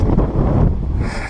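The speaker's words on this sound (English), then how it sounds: "So it's a little windy" Wind gusts buffet the microphone on an open hillside paddock, a loud, low, rumbling roar that surges and eases over the short moment.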